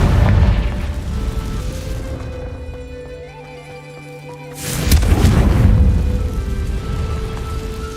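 Confringo blasting spell explosion in the video game Hogwarts Legacy, a loud booming burst that swells and rumbles over a steady game soundscape, with a second heavy blast hitting midway.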